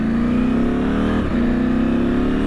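Loud, close car engine droning under acceleration, its steady tone climbing, briefly dipping as the gear changes, then rising again.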